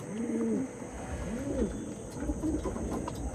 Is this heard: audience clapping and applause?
no